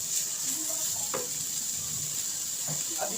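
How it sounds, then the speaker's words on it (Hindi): Onions and cabbage fry in oil in a pan with a steady, soft sizzle that runs throughout, joined by faint clinks and stirring noises near the pan. "इन तमाम सब्जियों को हल्का से इस ऑयल के अंदर तकरीबन लाल करना है।"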